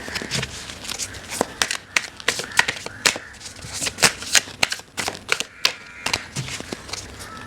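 A tarot deck is being shuffled close up, with crisp papery riffles and sharp card slaps in an uneven, busy rhythm across the whole stretch.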